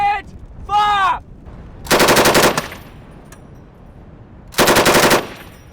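.50 cal machine gun fires rapid bursts during tank hunt training, two long loud strings of closely spaced shots separated by a pause. A brief shouted voice comes just before them.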